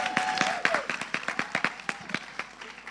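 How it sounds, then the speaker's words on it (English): Audience at a conference talk on local-language journalism clapping, a loose run of distinct, moderately close hand claps in a quick uneven rhythm, with faint crowd murmur. "I beg making a clap"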